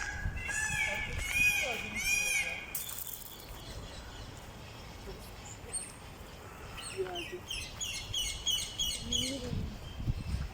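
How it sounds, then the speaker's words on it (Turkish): Calls and clucking from turkeys and roosters at Dolmabahçe Palace, some sharp squawks early on, with chirps and people talking nearby throughout. "Hindiler var, horozlar var."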